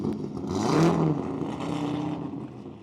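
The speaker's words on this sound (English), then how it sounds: "Got another vet here with a heck of a cam in it, if nothing else. Sounds like it's got a lot of motor." A Corvette with a big, aggressive cam idles and blips nearby, a loud lumpy engine note swelling around the first second, then settling into a steady choppy rumble.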